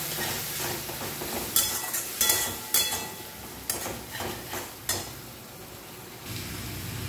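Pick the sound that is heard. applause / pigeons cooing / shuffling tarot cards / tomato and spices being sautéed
tomato and spices being sautéed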